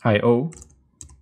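A few sharp, quiet keystrokes on a computer keyboard follow a short spoken phrase, landing as isolated clicks near the end.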